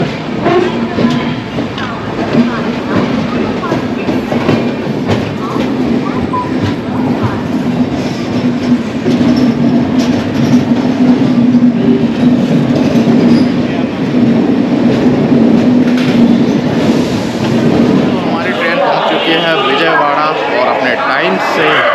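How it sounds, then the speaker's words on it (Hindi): Vishakha Express passenger train rolling along the rails toward Secunderabad, a loud continuous rumble with rhythmic wheel clatter, heard from inside or close by, with a brief squeal near the end. "टाइम से आधा घंटा पहले पहुंची है ये ट्रेन"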